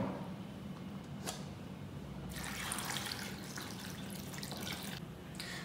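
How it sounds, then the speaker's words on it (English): Water runs from a tap into a pot of cut ash gourd and white radish, a steady trickling and splashing that grows fuller partway through, with no voices. "I'm going to add water to this cut vegetables like ash gourd and radish."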